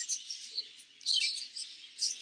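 Small parakeets chirp and tweet in an aviary, bursts of high, thin calls overlapping at moderate distance with brief pauses between them, no voices present.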